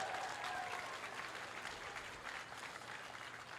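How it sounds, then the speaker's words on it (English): Crowd applause at a rally in Madison, Wisconsin, a faint, distant-sounding wash of many hands clapping that holds steady throughout. "Give yourselves a round of applause."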